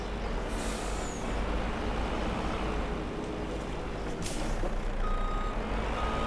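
Mercedes truck in Farming Simulator 25 reversing, with a steady electronic reversing beep over continuous diesel engine rumble and a short burst of air-brake hiss partway through; no voices.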